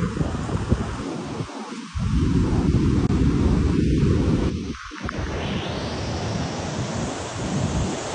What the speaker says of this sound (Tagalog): Gusto pumunta sa malakas na alon.